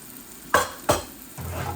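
Cumin seeds hit hot oil in a pan for a duck egg curry, giving two sharp, close clatters of a spoon followed by a soft, steady sizzle; no talking.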